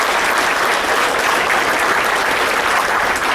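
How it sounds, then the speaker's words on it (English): Steady, dense applause from an audience at a dirt-track racing awards banquet, loud and sustained without a break and with no voices standing out. "so let's give them a round of applause right quick"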